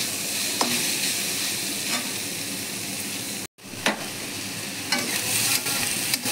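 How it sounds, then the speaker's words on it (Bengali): Soybean chunks seasoned with turmeric and salt sizzle continuously in hot oil, with periodic scrapes and clinks from stirring and a brief cut to silence midway. "আমি এই তেলে সয়াবিনগুলো ভেজে নেব"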